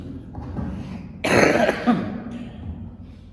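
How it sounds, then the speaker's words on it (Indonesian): Someone nearby coughs in a short, harsh fit midway, with quieter breathing and shuffling around it. "Batuk-batuk dikit kayaknya."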